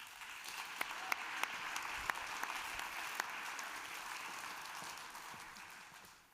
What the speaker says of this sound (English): Give a round of applause for Aurore Galves.